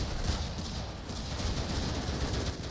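AK rifle gunfire in an online video game match, a continuous busy barrage of shots that is fairly loud and steady, with no talk over it.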